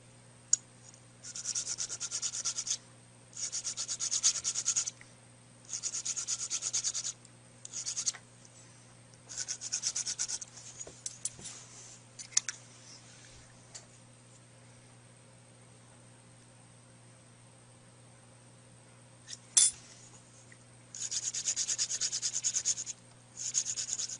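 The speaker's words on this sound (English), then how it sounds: "I use sticks with sandpaper on it." A 240-grit sandpaper stick files an acrylic nail tip in repeated rasping strokes, several bursts of steady scraping separated by short pauses, close and fairly loud with no talking.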